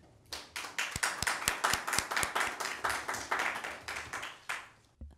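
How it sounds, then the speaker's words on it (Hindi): An audience claps at an Easter poetry recital, the dense applause rising from quiet into steady rhythmic clapping that holds for several seconds before fading out, with no voices. "आपकी भरपूर तालियों में"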